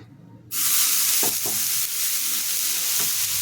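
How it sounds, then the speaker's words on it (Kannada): Dosa batter hitting a hot pan, a sudden loud sizzle that bursts in and keeps hissing steadily up close, with a few faint scraping knocks underneath. "ಇನ್ನು ದೋಸೆನ ಮಾಡ್ಕೊಳ್ಳೋಣ ಇವಾಗ ದೋಸೆ ಹಾಕ್ಕೊಳ್ಳೋಣ"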